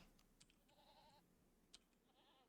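Goats bleating in the video game RimWorld, two or three faint wavering bleats over a quiet background with a few soft clicks, distant and low in level.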